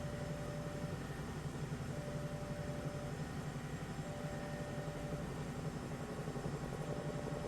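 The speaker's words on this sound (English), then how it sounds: "I don't know why the helicopter's kind of like crying." Cowansim Bell 222B helicopter in Microsoft Flight Simulator 2024, cruising about 110 knots over the Grand Canyon: a steady, dense rotor and turbine drone fills the cabin, with a faint high tone beeping on and off at regular intervals.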